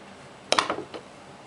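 Scissors trim the edge of fabric for a homemade eyelash and nail art storage case, giving a brief cluster of close, crisp snips in quiet surroundings.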